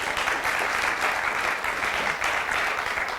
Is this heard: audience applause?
yes